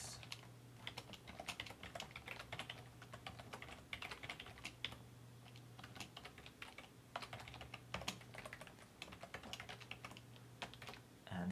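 Typing on a computer keyboard, a quick, steady patter of key clicks running throughout at a fairly quiet level, with a faint constant hum underneath and no speech.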